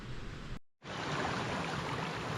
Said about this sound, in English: I'm down here at the creek.